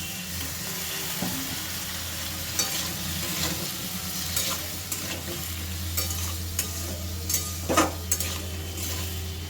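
Spice paste with cauliflower, wetted with a splash of water, frying in a pan for a prawn curry, giving a steady loud sizzle with scraping stirs and occasional clinks of a utensil, without talk.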